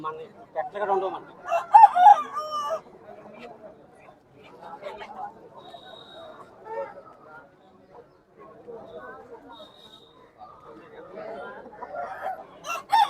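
Chickens cluck and crow at a country chicken market, hens and roosters sounding in bursts among steady crowd chatter and bargaining voices.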